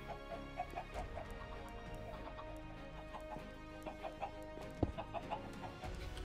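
Minecraft chickens clucking in short repeated bursts against a quiet game backdrop, with one louder cluck partway through.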